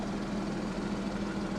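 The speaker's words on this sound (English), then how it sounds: "let's put it in sport mode and hear the exhaust valves opening up" A 2014 Porsche Boxster S engine idles in sport mode with exhaust valves open, a steady, deep, throaty rumble, continuous and unchanging throughout.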